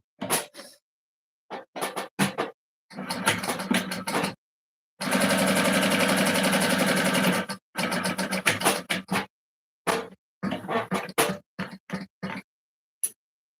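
A sewing machine stitches across the lining of a fabric sling pouch, running in short bursts and one longer steady run of a few seconds, with brief pauses between stitches.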